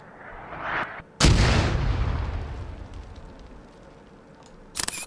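Video game explosions and incoming artillery shells in Arma 3: a loud blast with a long rumbling decay, preceded by a rising whoosh and followed later by a sharp burst of crackling impacts.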